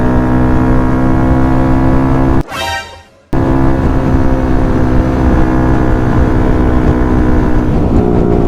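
A motorcycle riding and revving with a loud, close, steady engine drone that cuts out for about a second before resuming at full strength.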